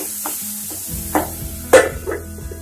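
Tomatoes with a pinch of salt cook in a partly covered pan, giving a soft low sizzle broken by a few sharp stirring scrapes and clinks. The sound is close and fairly quiet.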